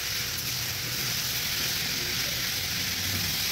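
Tomatoes fry in oil with a continuous, even sizzle and hiss at moderate volume, alone and without pauses.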